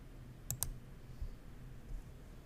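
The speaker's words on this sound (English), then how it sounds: "I'm going to click the Paste as Plain Text button." A computer mouse clicks twice in quick succession on a Paste as Plain Text button in a web text editor, sharp and close over faint room hiss, then quiet.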